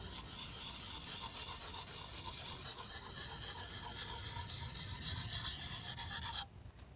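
A knife blade scrapes steadily across a sharpening stone in a continuous, hissing rasp with rhythmic strokes, close and fairly quiet, stopping abruptly just before the end.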